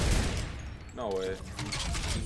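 Rapid turret fire in a video game, a dense continuous burst of gunshots running throughout, with a brief raised voice cutting in partway.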